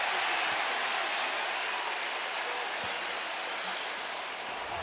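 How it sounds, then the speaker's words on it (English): NFL stadium crowd roaring after a Philadelphia Eagles touchdown, a loud, sustained, broadband wall of cheering with no clear breaks. "The crowd reacts"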